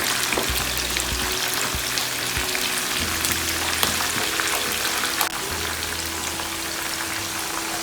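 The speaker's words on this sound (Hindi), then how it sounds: "भिंडी अच्छी क्रिस्पी हो जाए जब तक हम फ्राई करेंगे" Okra and mixed vegetables frying on a hot tawa, a steady close sizzle and crackle with occasional stirring scrapes, continuous throughout with no talk.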